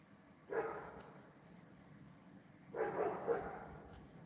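A dog barks a few times at a moderate distance, first a single bark and then a short burst of two or three, with quiet background hum between them.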